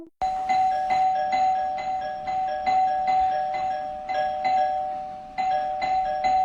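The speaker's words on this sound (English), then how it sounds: "he keep ringing my doorbell like he crazy" A doorbell at a home doorstep at night rings over and over, each electronic chime tone struck in quick succession and decaying, loud and close with no voices.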